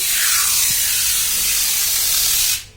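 A spray bottle gives one long, loud, close hiss that runs for about two and a half seconds and then cuts off sharply, with no talking.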